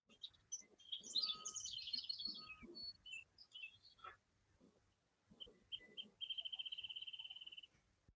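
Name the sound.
wrentit singing in the field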